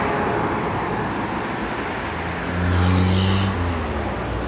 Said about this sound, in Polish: Poza ruchem samochodowym niewiele się tutaj dzieje.